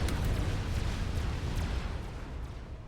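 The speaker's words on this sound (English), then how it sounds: "You see all those fiery explosions." Dense, continuous rumble of artillery shells bursting from Fat Boy units in Supreme Commander Forged Alliance, a steady loud roar of overlapping booms with a few sharper cracks, no voices.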